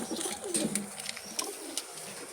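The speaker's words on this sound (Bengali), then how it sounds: "একদম ফ্রেশ কবুতর" Jalali pigeons coo softly close by, a low murmuring call with a few faint chirps above, in a quiet setting.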